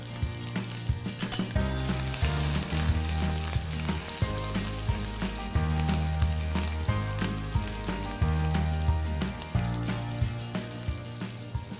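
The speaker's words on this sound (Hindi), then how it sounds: "जो टेम्परिंग करनी है इसमें देसी घी लेते हैं, put some ginger Julian on it, 3-4 मिर्चियाँ" Ginger julienne and three or four chillies sizzle in hot desi ghee for a tempering, a steady close crackle and fry under a repeating low mechanical hum.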